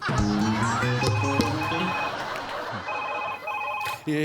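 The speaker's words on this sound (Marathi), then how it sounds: "फोन फोन आला" A telephone rings repeatedly in a steady electronic pattern, fairly loud and close, with faint voices underneath.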